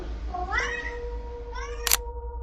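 A cat lets out two rising meows, close and clear, the second shorter, over a faint steady background hum with a brief sharp click near the end.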